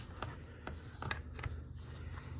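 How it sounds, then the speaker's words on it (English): A Thompson Center Venture hunting rifle's bolt clicks and slides, a few light, close mechanical clicks spread over a couple of seconds at low level, with no talking. "It's got a little positive click right there on the bolt"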